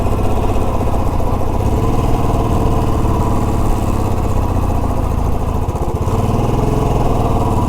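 Motorcycle engine running steadily and loud throughout a ride on mountain roads near Bhadraj Temple above Mussoorie, a constant low drone with a brief dip near the end.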